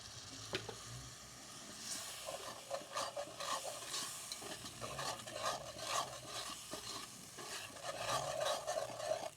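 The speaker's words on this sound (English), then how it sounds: "we're going to start adding this milk in" Milk is stirred into smoked sausage gravy in a cast iron pan on a Big Green Egg, giving a soft continuous sizzle with repeated scraping strokes, quiet and close, with no talk.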